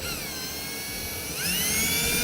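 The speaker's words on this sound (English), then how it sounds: "Next thing I'm going to do is I'm going to drill a pilot hole where my mark is." A power drill whines at a high, steady pitch, rising in tone partway through as it bites into metal while drilling a pilot hole for a gooseneck hitch.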